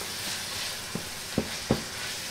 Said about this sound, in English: Saute them, you know. Not gonna let them burn.